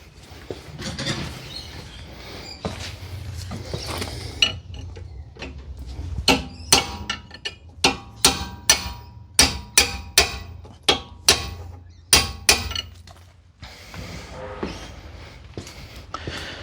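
Repeated sharp metallic hammer strikes punching a torsion bar into place on a Peugeot 206 ring out in an irregular rhythm, close and loud, with clanking mechanical noises between them.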